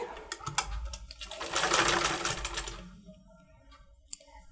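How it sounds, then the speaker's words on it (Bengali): Sewing machine stitching the neck strip of a bra-cut double katori blouse, a dense buzzing run that swells in the middle and then fades, with a small click near the end. "এখন আমি সেলাই করে নিচ্ছি"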